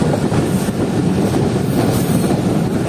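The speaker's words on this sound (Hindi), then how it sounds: "11:40 पर जो है ट्रेन हमारी वो एंटर हो रही है टंडो जाम शहर में" An express train entering Tando Jam town in Pakistan, heard from on board as a loud, constant rolling roar with rhythmic wheel clatter and faint squeal.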